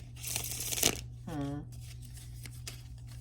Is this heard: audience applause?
no